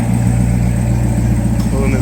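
A Corvette ZR1 engine runs at a steady, loud rumble with a low harmonic drone throughout, close by at a drag racing event in Dallas, with voices talking over it.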